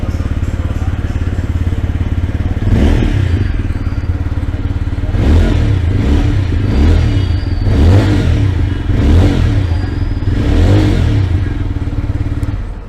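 A 2025 TVS Apache 160 4V motorcycle idles loudly close by, then its engine is revved in several sharp bursts, each rising and falling back to idle.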